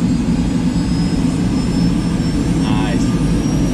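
A twin-turbine BO105 helicopter starts up its second turbine engine, making a loud, steady, high whine and roar that holds throughout, with voices faintly under the noise.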